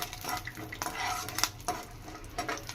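Peanuts fry in a pan while being stirred, giving soft scraping and clinking against the metal in close, intermittent strokes over a faint sizzle.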